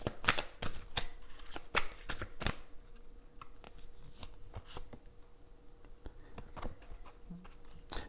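Tarot cards shuffled by hand: a run of quick crisp riffles and flicks, dense at first, then sparser taps and slides, close and fairly quiet with no talking.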